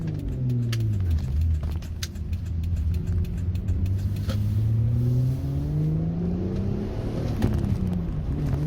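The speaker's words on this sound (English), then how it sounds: "I popped the clutch, which is what happens when you rev up the gas too much and then let off the clutch too soon. That's why the car bogged down." A manual-transmission Toyota engine revs and drags as the clutch is popped and the car bogs down, a steady close mid-pitched drone with slowly rising and falling engine tones throughout, no talk.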